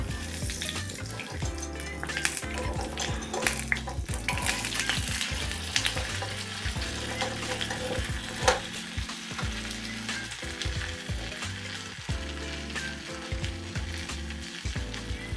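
Amaranth dosa cooks in a pan over a low gas flame with a constant close sizzle, punctuated by repeated scraping and clattering of a spatula and utensils; no voices.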